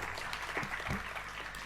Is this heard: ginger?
no